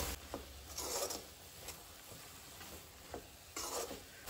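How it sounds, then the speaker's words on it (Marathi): Salt-marinated prawns being stirred into masala in a hot pan: a soft, steady sizzle with repeated scraping strokes of a spoon against the pan, close and fairly quiet. "सुंगटांय बी हितून आमी मातशी मिक्स करून घेवया आतां।"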